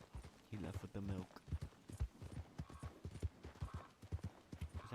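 A horse's hooves clip-clop at a steady trot in a video game, with a close, rhythmic patter of hoof falls running throughout and a voice briefly heard near the start.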